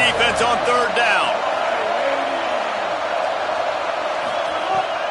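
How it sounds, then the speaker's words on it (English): Stadium crowd in a football video game roars steadily on a third-down defensive stand, a dense sustained wash of cheering with a few whoops rising early, loud and continuous throughout. "Decibels rising as the crowd gets behind this defense on 3rd down."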